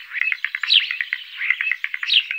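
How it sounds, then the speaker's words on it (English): A starling calls repeatedly in quick chattering bursts of chirps and whistles, close and clear with no other sounds. "It's a starling."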